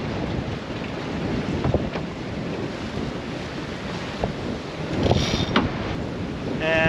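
Strong gale wind roars across a sailboat near Santa Cruz Island, with steady buffeting and rushing air mixed with water noise and occasional creaks, loud and continuous.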